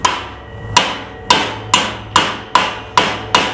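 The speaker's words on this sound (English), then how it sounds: "You just gotta hammer them down flat." Eight sharp hammer strikes flattening metal stubs on a front upper A-arm, at a steady, fairly quick rhythm, each a bright ringing clank that decays quickly, close and loud.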